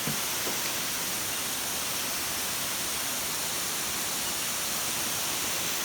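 Spraying shower water hisses continuously onto farm animals, a steady broadband wash, close and unbroken for the whole stretch.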